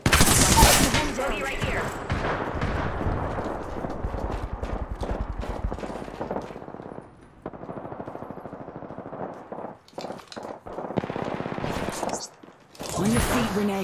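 Rapid bursts of video game gunfire crackle through a firefight, dense at the start and again near the end with a lull in between, while a voice speaks briefly over the shooting.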